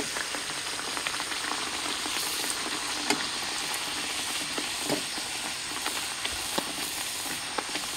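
Dough frying in hot oil at a forest campsite in Nagaland during heavy rain. A steady, close sizzling hiss runs throughout with small pops and crackles, and no talking is heard.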